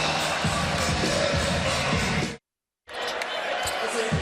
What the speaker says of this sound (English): And the Aztec crowd getting into it.